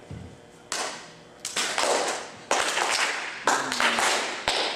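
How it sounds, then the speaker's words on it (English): An audience at the AkaiCon 2015 Sale of the Century event claps, with sharp bursts of many hands arriving at roughly regular intervals as a beat and fading between them. The crowd is close and moderately loud, with no talk over it. "audience, I need a clap beat"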